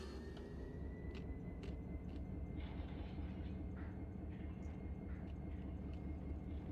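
A long freight train in the Run 8 train simulator game rolls with a steady low rumble and faint rail clatter, a thin whine and scattered light clicks, heard evenly and without voices.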